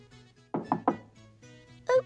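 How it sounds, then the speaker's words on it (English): Sharp knocks on a door, three quick raps close together followed by a lone fourth knock after a pause, clear and near against a quiet background. "there was a knock at the door"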